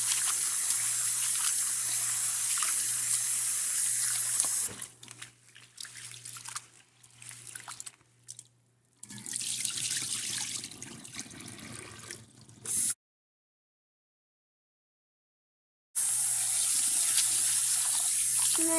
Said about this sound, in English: now we're going to show you how to clean the rice